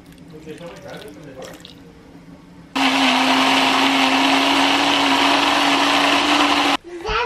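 A Nutribullet blender purees avocado with breast milk, whirring in a loud, steady high-pitched motor drone for about four seconds before cutting off, preceded by soft talk and kitchen handling.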